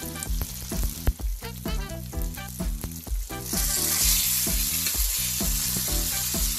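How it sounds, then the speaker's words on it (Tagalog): Bulad, dried fish, frying in a pan, a steady loud sizzle that swells and thickens partway through, heard alone over rhythmic background music. "Ang pritong bulad ay isang simpleng ulam at pampagana sa pagkain."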